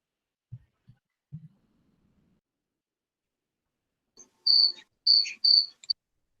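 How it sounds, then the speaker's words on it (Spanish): A cricket chirps indoors in a quiet room, with a few short, sharp, high-pitched trills bunched together near the end after a few soft low knocks early on. "Ahí se metió un grillo, me parece."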